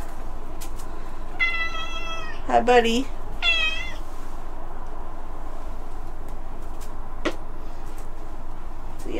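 A pet cat meows several times in a row, close by, with drawn-out rising and falling cries over a faint steady background hiss, while a person speaks to it softly.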